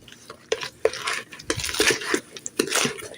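A spoon scrapes and clinks against a bowl while stirring blackberry ricotta cake mixture, in quick uneven strokes that sound close and fairly loud.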